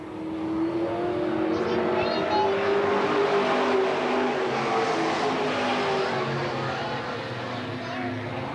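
Race cars racing at Eugene Speedway in 1991, a continuous roar of engines with passing whines, steady and fairly loud beneath an announcer's commentary.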